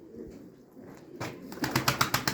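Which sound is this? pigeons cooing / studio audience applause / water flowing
pigeons cooing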